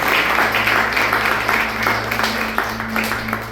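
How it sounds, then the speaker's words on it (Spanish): Loud, dense applause from a church congregation during a worship service, steady clapping filling the room throughout with a low hum underneath. "¿Por qué no das un fuerte aplauso?"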